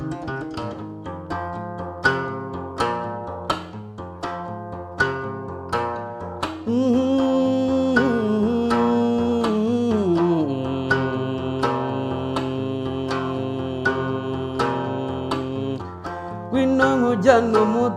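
An inanga, the traditional Rwandan stringed instrument, plays a plucked, resonant pattern of repeated notes that settles into sustained, ringing tones, alone and at moderate volume.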